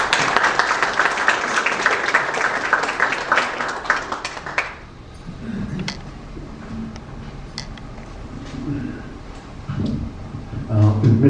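Audience applause for the Korean Consul General at a veterans' memorial event: dense clapping for about five seconds that then stops abruptly, followed by scattered sounds and voices.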